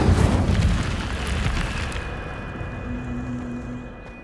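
Incendio fire spell cast in a Hogwarts wizarding game, a sudden loud whooshing burst of flame that decays into a fading crackle and hiss over a few seconds.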